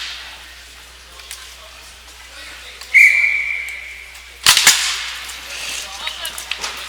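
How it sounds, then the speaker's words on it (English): A referee's whistle at a youth ice hockey game gives one clear, sustained blast lasting about a second, followed shortly by a sharp clatter against a low rink background. "we will have a whistle outside the Welland zone."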